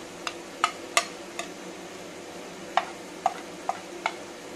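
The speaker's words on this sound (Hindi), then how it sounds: "अब मैंने टमाटो पेस्ट को डाल दिया और फिर से अच्छी तरह मिलाकर फ्राई करते रहेंगे।" Tomato paste and dry spices are stir-fried in a pan, with a quiet sizzle under sparse, sharp clicks of a spoon against the pan.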